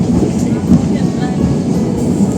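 Passenger train rolling through Cikampek station, heard from inside a carriage as a loud, steady low rumble and rattle that holds throughout with no break.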